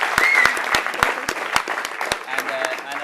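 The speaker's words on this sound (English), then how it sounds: "Can I have another round of applause for all the bridesmaids?" Wedding guests applaud the bridesmaids at a reception, a lively burst of crowd clapping punctuated by a few sharper close claps, with some voices over it.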